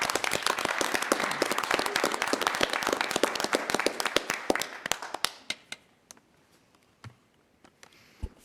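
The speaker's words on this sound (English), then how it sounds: "one more hand of applause" Applause at a commissioners' meeting starts as brisk, dense clapping from the room, then thins after a few seconds into scattered, isolated claps before dying out.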